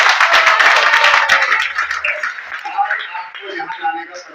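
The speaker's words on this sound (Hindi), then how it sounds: "तालियां शोर मचा के" Applause and cheering erupt in a gym gathering, loud dense clapping for about two seconds that thins into scattered claps and voices as the crowd quiets.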